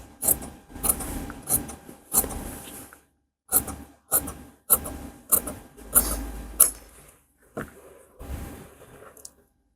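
Tailoring scissors cut cross patti fabric for a blouse in a series of close, crisp rasping snips in short bursts with brief pauses between.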